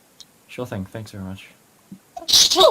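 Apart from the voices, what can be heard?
sneeze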